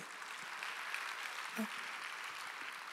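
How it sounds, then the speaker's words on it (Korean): Applause from a congregation at a Wednesday church service forms a steady, even wash of sound that holds at one level throughout, with a brief voice heard partway through. "박수 치라고 빨리"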